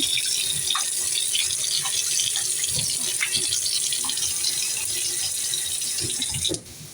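Tap water runs steadily into a porcelain sink as it is rinsed, a loud, close, continuous splashing rush that cuts off abruptly near the end.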